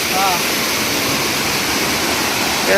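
A flooded forest stream near Bhimashankar, its rushing water a dense, loud, continuous roar throughout the short stretch.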